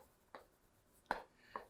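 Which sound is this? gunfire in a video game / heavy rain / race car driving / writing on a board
writing on a board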